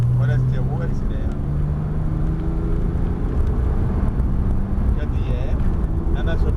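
A Porsche engine hums and accelerates on the Montlhéry circuit in a steady in-car drone, with rising engine tones and a voice talking over it throughout.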